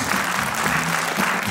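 Steady, loud audience applause fills the hall at a children's ensemble concert, a continuous wash of many hands clapping with no voices standing out.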